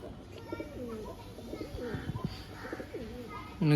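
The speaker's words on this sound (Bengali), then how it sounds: "খুব ওল্ড জেনারেশনের এবং খুব পুরনো ব্লাড লাইনের গম ঠোঁটের পায়রা আছে" Old-bloodline pigeons coo repeatedly nearby in a steady series of soft throaty calls, with a louder burst at the very end.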